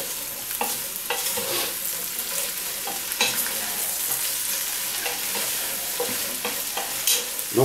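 Chili con carne ingredients fry in a pan with a steady soft sizzle, punctuated by repeated scraping stirs and clacks of a utensil against the pan.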